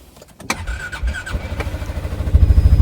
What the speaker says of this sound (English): I'm just going to hold the brake pedal, hold the push button start button